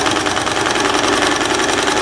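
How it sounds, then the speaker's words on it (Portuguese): Domestic sewing machine backstitching over elastic on a simple dress, a steady close mechanical whirr with rapid needle rhythm running continuously and fairly loud. "costura exatamente um pouquinho mais atrás, faz bem o retrocesso e vem em cima dela"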